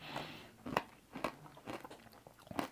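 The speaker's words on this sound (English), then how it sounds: "This is really crunchy." A bean-flavored candy gets bitten and chewed up close, giving a series of sharp, quiet crunches at an irregular rhythm.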